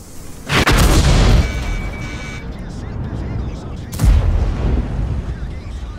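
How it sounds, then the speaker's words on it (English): Artillery fire in World of Tanks, with a heavy Maus tank on the field: two loud booming blasts about three seconds apart, each with a long rumbling tail over continuous engine drone. "I love when artillery shoots at the enemy tank as I'm advancing on it"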